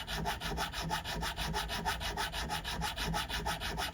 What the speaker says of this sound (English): it takes a lot of work to file